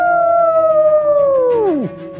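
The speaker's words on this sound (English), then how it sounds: "My howl echoed through the hallway and stopped me from drifting to sleep." A Minecraft character's howl attack: one long, loud howl sustained at a steady pitch that bends sharply downward and cuts off near the end, heard alone.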